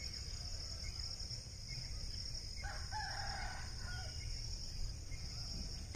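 A rooster crows at dawn in the village of Thandalkaranpatti near Dindigul, a single drawn-out crow from some distance, set against a constant high insect drone and low rural ambience.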